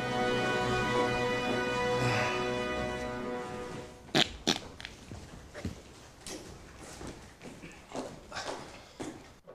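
A comedic fart in a Canadian comedy sketch starts as a long, buzzy, wavering blast, then gives way to scattered sharp thumps and knocks.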